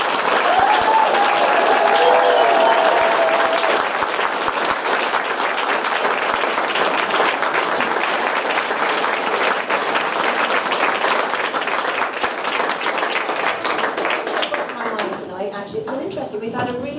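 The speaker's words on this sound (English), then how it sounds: "We need to give them a huge round of applause" A large audience gives loud, sustained applause for the performers of an evening singing show, dense clapping filling the space with a voice briefly audible early on, before the clapping thins and fades near the end.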